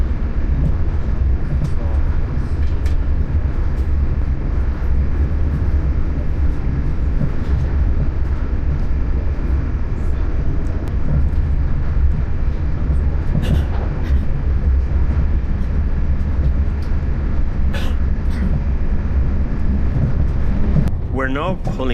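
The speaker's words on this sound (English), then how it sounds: "We're now pulling into Charleville railway station" A train pulling into Charleville railway station in Ireland, a continuous loud rumble of wheels and engine heard from inside the carriage, with brief rattles and clunks near the end.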